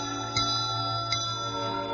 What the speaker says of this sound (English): a triangle is really just a piece of metal shaped like a